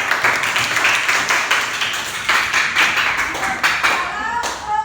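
A classroom full of people clapping steadily for several seconds, a bright burst of many hands at close to moderate distance.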